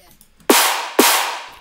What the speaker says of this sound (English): Then we have a snare.